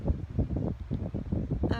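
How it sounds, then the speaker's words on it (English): Chilly outdoor wind buffets the microphone in a steady low rumble with gusty swells, loud and continuous across the short stretch and heard alone. "That wind's a little bit chilly"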